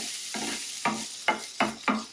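Onions, ginger and garlic sautéing in a pan for veg mughlai paratha, a steady sizzle broken by four or five distinct stirring scrapes at a regular pace, close and clear.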